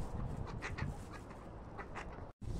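Swans calling on snow, a run of short nasal honks and squawks repeating close by over about two seconds, then a brief cut and a faint return.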